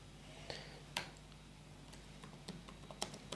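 Soft, sparse clicks of keys pressed on a computer keyboard, irregular taps spread over a few seconds against a quiet room hum.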